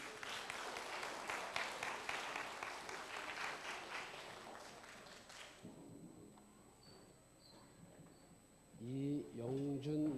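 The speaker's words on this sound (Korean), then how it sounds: "한 번 더 박수하십시다." A church congregation applauds during a Sunday service, dense clapping filling the first half and then thinning out. Quieter stretches with bird coos follow, and a voice speaks near the end.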